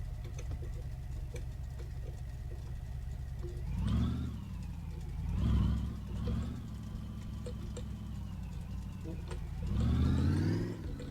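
In the video game My Garage, a car engine idles steadily and revs up three times in short swells, with someone talking over it.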